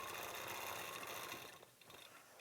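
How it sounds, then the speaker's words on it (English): Sewing machine running steadily while stitching in the ditch along a quilt's seams, a close, even mechanical whir that fades and stops near the end. "I am just stitching in the ditch here"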